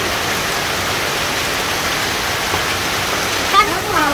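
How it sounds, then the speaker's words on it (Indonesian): Rain pours down steadily as a dense, even hiss close by, with a faint brief voice near the end. "Hujan."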